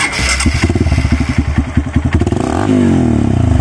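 A Honda CRF150 dirt bike engine with a tuned ECU, heard up close idling in rapid pulsing beats, then revving up into a higher steady drone.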